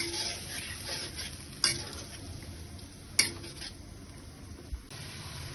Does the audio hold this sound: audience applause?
no